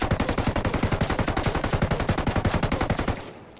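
Full-auto M16 rifle fire in the video game Ghost Recon Wildlands, a loud, steady rhythm of rapid evenly spaced shots for about three seconds, then a short decaying tail.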